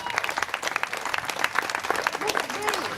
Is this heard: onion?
no